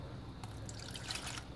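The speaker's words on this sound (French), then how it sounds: "Le bol où il y avait la marinade, je vais ajouter dedans un verre d'eau." A glass of water poured into the bowl that held the marinade, a steady close trickle and splash lasting under two seconds, with brighter dribbling toward the end.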